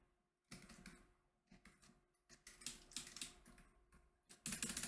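Keyboard shortcut presses and mouse clicks while drawing pixel art, close and faint, coming in quick irregular clusters of clacks after a short silence, with no speech.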